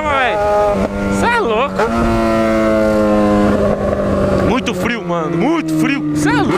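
A Yamaha XJ6 motorcycle engine revs up and down in repeated sharp sweeps between steadier held tones, loud and close, with someone talking over it.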